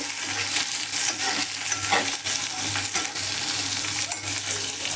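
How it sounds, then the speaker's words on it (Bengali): Chopped onions frying in hot oil in a pan and being stirred, a continuous close sizzle with occasional scraping and light clinks of the utensil against the pan, no talking. "কেটে রাখা পেঁয়াজগুলো আমি তেলে দিয়ে ভালো করে নেড়ে ফেড়ে ব্রাউন কালার করে পেঁয়াজগুলোকে ভেজে নেব"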